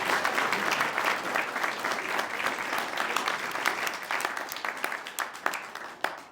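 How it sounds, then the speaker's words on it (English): Audience applause for council candidates at a meet-the-candidates event, a dense, sustained wash of many hands clapping that holds steady, then thins into scattered individual claps near the end. "can we please give them a big round of applause"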